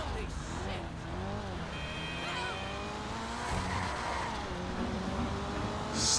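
An Annis Euros X32 drifting in GTA Online, its engine droning and wavering while the tires squeal and skid steadily, with a voice talking over the car throughout.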